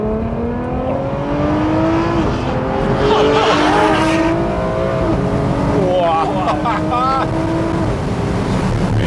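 A Ferrari 599 SA Aperta engine blips and revs on downshifts, harmonic engine tones stepping and sliding while excited voices talk over the steady car noise.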